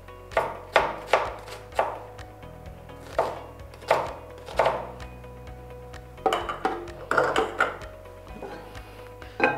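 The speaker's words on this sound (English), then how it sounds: "So I'll start with the onion. I like slicing them." A knife slices onions on a cutting board, crisp rhythmic strikes in short bursts with brief pauses, close and clear.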